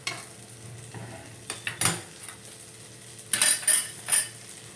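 Sabudana (tapioca pearls) are sautéed in a pan and stirred with a metal spoon, giving a series of close, irregular scraping and clinking strokes over a faint sizzle, with no talking.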